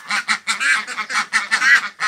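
Ducks and geese honk and quack in a loud, dense flock close by, calls overlapping in rapid bursts while being fed homemade feed.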